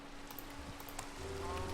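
Rain falling in Minecraft: a soft, steady wash of patter hisses continuously at low volume, with faint tonal game sounds and a low hum underneath.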